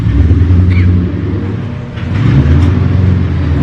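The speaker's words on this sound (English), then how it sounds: "As y'all can see and as you can hear, the Mustang is still warming up." A cold 1200-horsepower Ford Mustang GT engine idles while warming up after a cold start, a close, steady, loud low rumble with a brief dip and swell in level, no talking over it.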